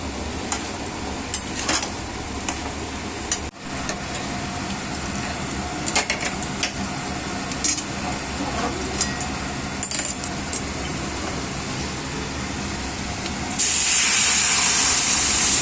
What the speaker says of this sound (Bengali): ডালটা ফোড়ন দিয়ে দিলাম।